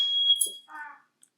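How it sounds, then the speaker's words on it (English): Indoor smoke alarm going off while a roommate cooks, a brief high electronic beeping tone that chirps then fades, fairly faint and short, with no talk over it. "Oh, that was a fire alarm."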